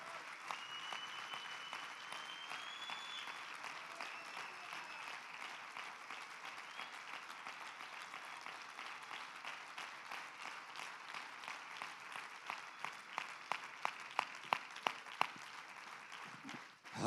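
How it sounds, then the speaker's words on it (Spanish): Church congregation applauding during an evening service, a steady wash of many hands clapping for the whole stretch, with a few louder, sharper claps standing out near the end. "Yo creo que podemos hacer más fuerte ese aplauso esta noche."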